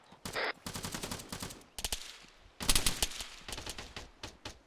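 Rattling bursts of automatic gunfire during a large-scale military game battle, rapid clusters of sharp shots broken by brief gaps, fairly loud and close, with no speech.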